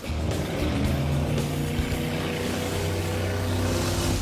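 Amphibious cars drive in circles on water, a constant loud engine drone with a steady low hum and churning rumble, close and unbroken, with no talking.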